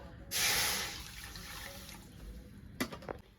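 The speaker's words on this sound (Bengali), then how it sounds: "কড়াটা উনুনে বসিয়ে দিয়েছি আমি এবার আধ মগের মতো জল দিয়ে দেবো" Half a mug of water is poured into a wok set on a stove, a short bright splashing gush up close that fades into a soft trickle, followed by a few light knocks and drips.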